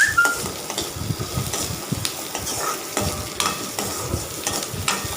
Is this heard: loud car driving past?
no